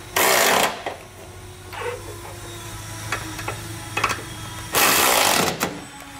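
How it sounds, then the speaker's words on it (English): A socket on a power tool tightens trailer hitch bolts under a 2020 Chevrolet frame, with two loud rapid rattling bursts at the start and end and softer clicks and knocks between them, close by and without speech. "we're going to grab a 3/4 inch socket and we'll tighten up the ones on the bottom"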